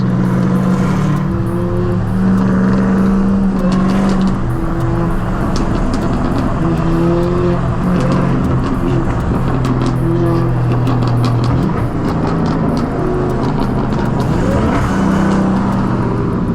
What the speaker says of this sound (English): That boy is moving in that TRX